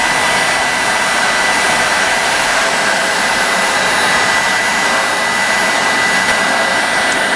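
A heat gun running on full power while heating plastic pipe for a hydroponic growing tower gives a loud, steady, close blowing roar that holds unbroken throughout, with no voices.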